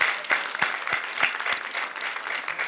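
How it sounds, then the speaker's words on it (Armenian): A studio audience claps loudly and steadily for a guest named Elen leaving the stage of a comedy game show, with several sharper claps standing out from the continuous applause. "Եկեք բարձր ծափարենք Էլենին եւ ուղեկցենք դեպի գետնաբեմ"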